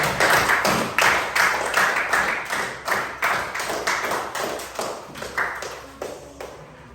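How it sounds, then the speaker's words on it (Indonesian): A group claps in a classroom, a burst of fast, uneven hand claps that stays loud and steady for several seconds before thinning out. "Beri tepuk tangan buat saya."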